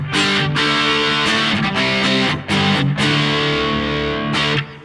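An electric guitar played through a Maxon SD-9 Sonic Distortion pedal rings out in sustained, buzzing chords with short breaks, ending with a sharp cutoff.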